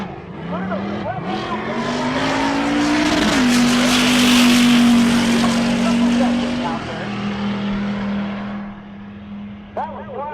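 Race cars make quarter-mile drag racing cleanup passes at Rocky Mountain Race Week 2023: a loud, close engine roar climbs, then holds a steady high drone, with brief tire squeal, before fading toward the end.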